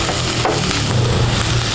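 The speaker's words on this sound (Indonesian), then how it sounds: "Tumis sebentar sampai bawangnya harum" Garlic sautéing in a frying pan gives a steady, close sizzle with faint scraping, alone and even in level for under two seconds.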